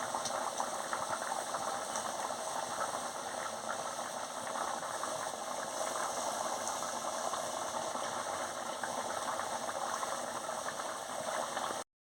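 An elephant foot yam and potato curry bubbles steadily in a pot, a continuous dense gurgling texture that holds even for about twelve seconds, fairly close and with no voices.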